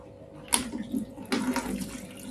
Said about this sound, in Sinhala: මම මුලින්ම මේ විදිහට සයිෆන් බටයක් ආධාරයෙන් මේකේ තියෙන වතුර පොඩි ප්‍රමාණයක් ඉවත්